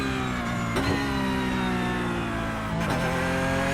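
Porsche Cup race car in iRacing at Bathurst, engine revving loud and steady with rising and falling pitch through gear shifts, a sharp drop near the start and another near the end as gears change.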